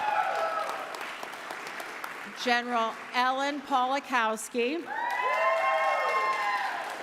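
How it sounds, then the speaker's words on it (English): A gala audience applauds honored generals with scattered cheers and whoops, the clapping continuing while a speaker announces a name over it, then swelling again once the voice stops. "Come on, they deserve applause"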